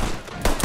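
Gunfire in a video game battle set in 1928 Nicaragua, U.S. Marines against Sandinistas, with two loud broadband bursts crashing over a dense, rumbling background of battle noise.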